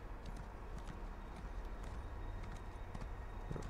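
A horse in the video game The Elder Scrolls Online: Dragonhold clip-clops with faint, regular hoof taps. They sit under a constant, dense game background, with no talking.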